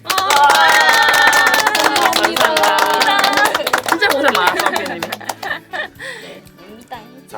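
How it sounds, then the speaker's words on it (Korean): A group claps together for a producer at the final shoot of a 66-day challenge. The dense, steady clapping rings out over voices and background sound, then thins into scattered claps toward the end. "마지막으로 황피님한테 박수 한번."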